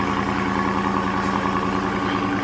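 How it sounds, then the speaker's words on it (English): A 2020 Dodge Charger with active exhaust idles close by, a loud, steady, deep burble with an even low pulsing rhythm and no voices over it. "Listen to the active exhaust right there."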